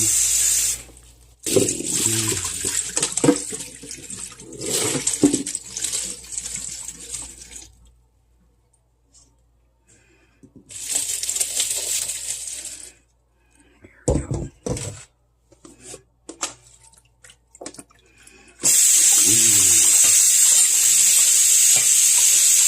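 Red berries and strawberries rinsed under running tap water in a sink, with bursts of splashing and flowing water that stop and start, ending in a steady loud stream; some clunks and handling noises between.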